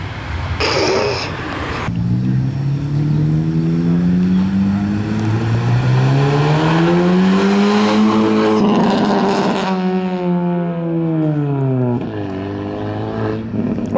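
A Jetta with a loud aftermarket exhaust, leaving a car event in Brasília, revs hard and accelerates nearby, its engine note rising and falling through several gear pulls with a raspy, droning tone.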